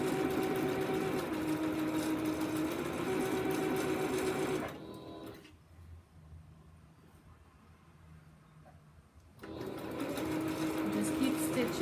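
A sewing machine stitches a narrow rolled hem in lightweight fabric, whirring steadily and close, pausing briefly midway before running again.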